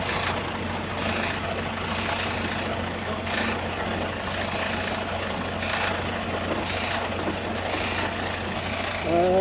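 A semi truck engine drones steadily up close on the Wyoming–Colorado border as its wheels spin beside a ditch, a continuous low rumble that holds level throughout.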